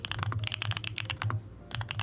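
Typing on a heart-themed keyboard: a steady run of close, soft, creamy keystrokes in an uneven rhythm, with a brief pause near the middle before the clicks resume, no voices.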